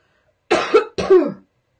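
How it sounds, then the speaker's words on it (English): A person coughs twice in quick succession, close and fairly loud, with each cough breaking into two rough bursts and silence around them. "I apologize for my cough"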